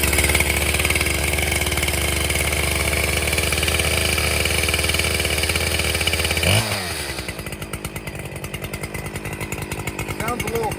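A new chainsaw, neither Stihl nor Husqvarna, runs steadily, loud and close, with a throaty, loping idle. Partway through, its tone drops to a lower, choppier idle.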